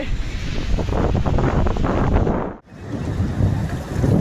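Loud rushing sea waves breaking close by at Puri beach, mixed with heavy wind buffeting the microphone, briefly dipping before the surf surges again.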